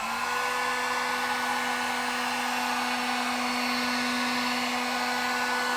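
Harbor Freight heat gun running steadily on its high setting, a constant loud blowing whoosh with a fixed motor whine, heard close and uninterrupted with no talking.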